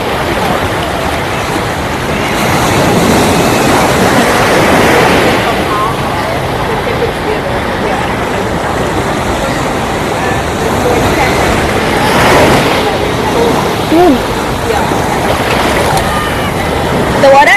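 Surf washes in at Clifton Beach, Cape Town, with broad rolling swells rising and fading in waves, mixed with gusty wind buffeting the microphone and a voice talking over it.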